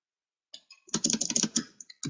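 Keys tapping on a computer keyboard while CSS code is entered, a quick cluster of clicks after a few light taps, close and moderately loud with no talking.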